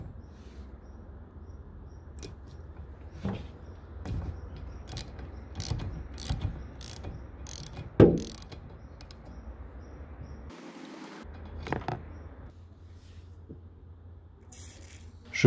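Ratchet wrench with a 13 mm socket working bolts loose on a Seat Leon TDI 150, giving repeated close clicking bursts with brief pauses and one sharper clank midway, no talk.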